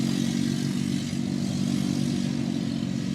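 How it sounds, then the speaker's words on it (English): A mini bike passes outside as a steady, droning small engine with a rough low rumble. It holds fairly loud and constant and nobody speaks over it. "somebody in a mini bike"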